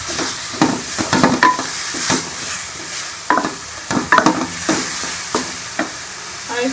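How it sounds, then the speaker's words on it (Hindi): Sweet corn kernels tossed and stirred through hot masala in a pan, giving a steady close sizzle broken by repeated scraping strokes of a spoon against the metal, several sharp clinks scattered through. "अब इसके अंदर ये मैं मकई डाल दूँगी। इसको हम मसाले में भून लेंगे।"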